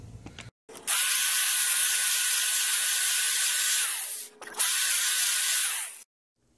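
A steady high-pitched power tool whine while reaming a hole in a trim rod mount on an Evinrude 40 HP outboard. Two sustained runs with a short break between them, loud and close, with no talk.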